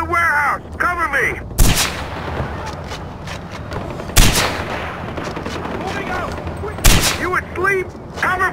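Covering gunfire in the shooter game Far Cry 4, with several loud, close bursts breaking through a steady din of battle and shouting voices, while rapid shots rattle on continuously underneath.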